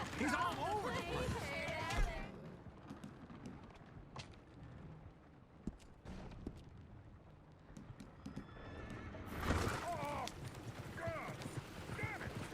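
Horses in the Red Dead Redemption 2 video game clip-clop and whinny, with loud shouting voices before and after a quieter stretch of hoofbeats and snorts.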